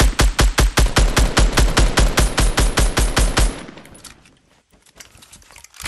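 Rapid automatic gunfire in Fortnite Battle Royale hammers out in a steady, loud burst of about twenty shots, then stops and fades into quieter scattered game sounds.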